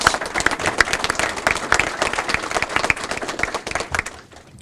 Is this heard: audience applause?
yes